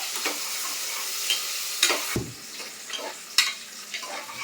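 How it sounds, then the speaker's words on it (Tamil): Onions sizzle softly in a pan for a country chicken salt curry, with intermittent stirring scrapes and a couple of sharp utensil knocks against the pan, close and without speech. "வெங்காயம் நல்லா வதங்கிடுத்து"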